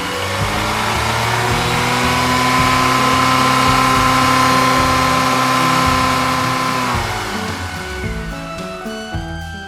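A massive blue toy truck roars steadily as it lumbers forward, a loud continuous engine-like drone with shifting tones that holds for about seven seconds before breaking into quieter, choppier rumbling.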